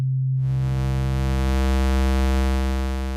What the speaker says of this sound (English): Sine wave